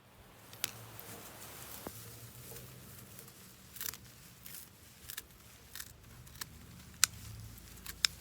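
Quiet scattered snips of scissors cutting through red clover stems, irregular clicks spaced a second or so apart against soft outdoor garden background.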